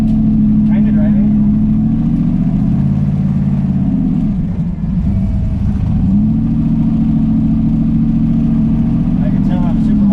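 A turbocharged Ford Fairmont engine drones steadily while driving, a loud close low hum that dips briefly as the revs change, then settles back into an even note.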